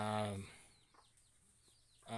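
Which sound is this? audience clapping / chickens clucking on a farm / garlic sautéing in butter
chickens clucking on a farm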